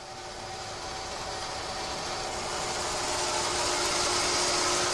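Stock gearbox of an RC tank running at slow speed on grippy carpet, a steady mechanical whine with faint ratcheting that builds gradually louder, close and continuous with no voices.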